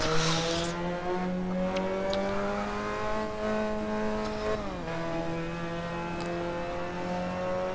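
A Mazda MX5 Cup car in a racing game spinning out at Laguna Seca: a steady engine drone with tire squeal bursts, the revs dropping abruptly midway as the car loses grip, then droning on lower.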